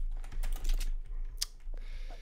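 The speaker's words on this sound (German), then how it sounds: "Beste Tastatur höre ich da gerade." Rapid keystrokes clatter on a computer keyboard during a Garry's Mod TTT gaming session, close and moderately quiet, with one sharper click partway through and a quieter stretch at the end.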